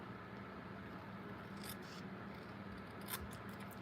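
Scissors snip through a small piece of cardstock for a stamping card, a few short crisp cuts near and fairly quiet over a steady low room hum.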